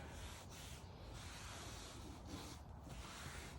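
A rag wipes Gtechniq C1 Crystal Lacquer ceramic coating off the body of a Citroen Ami Vibe, a soft continuous rubbing swish with slight rhythmic strokes, faint and close with no talk.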